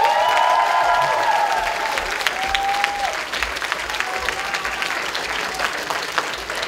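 Concert audience at a student gala of a pop-symphony orchestra applauding, loud dense clapping throughout, with a brief whistle-like tone and a faint voice in the middle.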